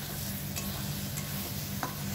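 Potol bharta, a mash of pointed gourd, being stirred in a pan, giving a soft steady scraping and low sizzle with a few brief clinks, continuous and close, with no talking.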